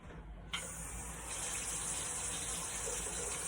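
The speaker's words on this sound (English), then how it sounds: "I'm going to fill it with water." Tap water gushes steadily into a plastic ice cube tray after a sudden start, filling with a constant, fairly close splashing hiss and no talk.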